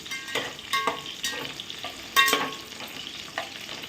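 Cauliflower pieces stir-fried in a hot pan, with a steady oily sizzle broken by several sharp spatula scrapes and clinks against the metal, close up and with no voices.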